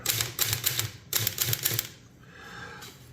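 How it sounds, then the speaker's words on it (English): A Royal 10 manual typewriter typed over existing text: two bursts of rapid, loud, close key strikes with mechanical clatter, separated by a brief pause, then fading into a softer rattle. "I'll go ahead and type over some of the text here"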